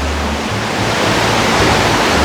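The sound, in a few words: river water rushing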